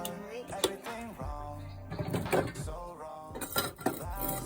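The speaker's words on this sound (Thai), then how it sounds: "กระทะตั้งไฟแล้วใส่น้ำมันเลยค่ะ" Metal pans and utensils clatter and clink several times against a hard surface as a pan is set on the stove and oil added, close by, with a voice murmuring underneath.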